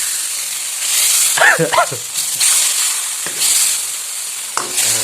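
Manchurian mixture is stirred in a frying pan, giving a loud, close sizzle that swells and fades in bursts, with a brief voice partway through.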